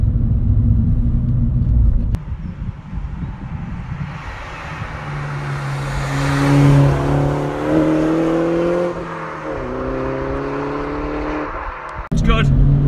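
A 2012 Mini Cooper S hot hatch with a turbocharged engine pulls hard under acceleration, its tone rising steadily through the gears, loud and close from inside the car with road rumble beneath.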